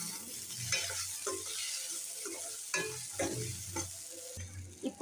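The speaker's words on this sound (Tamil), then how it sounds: "இந்த மாதிரி ஆன பின்னாடி தக்காளி போட்டுக்கலாம். போட்ட பின்னாடி நல்லா வதக்கிக்கோங்க." Tomatoes fry and sizzle in a pan while a spoon stirs them, giving a constant hiss with intermittent scraping and clinks, close and moderately loud with no speech.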